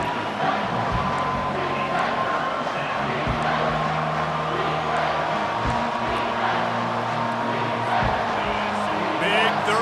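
Stadium crowd in EA Sports College Football 25 roars steadily throughout, a dense, loud wall of cheering and whooping with low rumbling tones underneath, swelling slightly toward the end.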